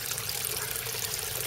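A pump in a backyard koi pond pushes air into the water, making a steady close burble and trickle with no voices.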